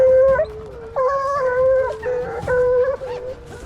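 Several hunting dogs on a wild boar hunt howl and bay loudly in drawn-out, wavering cries, pausing briefly between bursts, close by and without talk.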